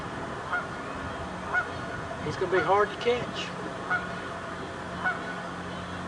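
Geese honking near a wooded area in a low-budget movie scene, several short honks spaced through the clip with a busier cluster in the middle, heard under a man's speech.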